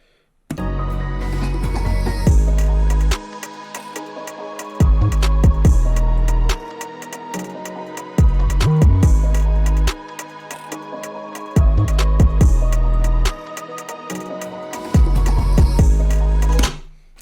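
A loud drill beat made in FL Studio with deep booming bass and a tribal drum loop, the full groove dropping in and out in repeating sections.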